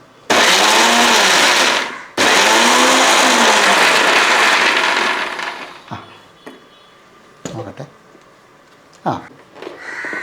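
A kitchen mixer grinder whirs loudly in two short bursts while grinding onion and chilli for a Kerala chammanthi, then stops, followed by clatter and quiet talk.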